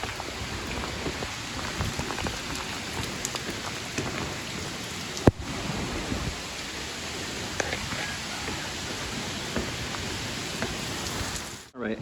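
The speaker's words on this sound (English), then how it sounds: "it started absolutely pouring" Heavy rain pours steadily outdoors at a Boca Raton, Florida nature center, a dense continuous hiss close by with one sharp knock partway through and no talking.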